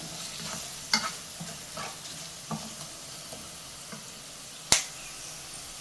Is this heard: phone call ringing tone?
no